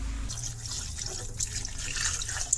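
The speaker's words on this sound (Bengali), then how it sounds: "এখন জল দিয়া দিব" Water pours steadily into a cooking pot of sautéed ash gourd, soya chunks and paneer curry, a continuous close splashing stream with faint drips near the end.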